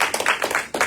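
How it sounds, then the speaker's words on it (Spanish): A church congregation bursts into applause during a Sunday service, a dense wash of many hands clapping close by, over in under a second. "Recíbalo, hermanos, con un fuerte aplauso al Señor"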